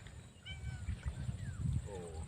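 A few soft cat meows rise and fall over low murmuring voices and background chatter.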